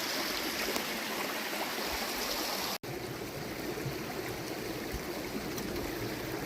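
Steady, gentle rushing and trickling of flowing creek water, close by and continuous, with no voices.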